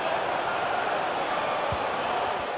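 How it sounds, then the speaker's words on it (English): Stadium crowd in EA FC 24 during a Tottenham Hotspur vs AFC Bournemouth match, a continuous broad roar of thousands of fans urging on an attack, steady and even throughout with a faint thump partway. "The crowd encouraging him to take it on."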